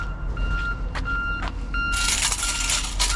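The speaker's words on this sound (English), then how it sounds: "there's a lot of beeping going on." Repeated high electronic reversing beeps sound over a rumbling truck engine, followed by a burst of hissing noise.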